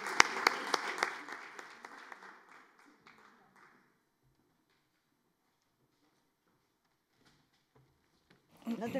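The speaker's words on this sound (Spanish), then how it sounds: "Un aplauso para ellas." An audience at a film colloquium claps for the panelists as they come to the stage, a fairly quiet burst of applause that thins out and fades to silence within a few seconds, followed by a short clatter at the end.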